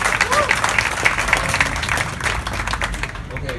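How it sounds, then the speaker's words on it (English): A crowd applauds loudly outdoors at a street dedication in Chicago's Halstead area, dense clapping with a few louder individual claps and cheers, sustained for several seconds close by. "please give them a round of applause"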